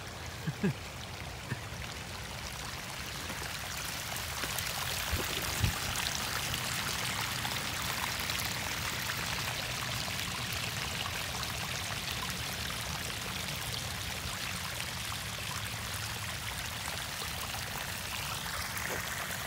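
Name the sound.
water pouring from a pond overflow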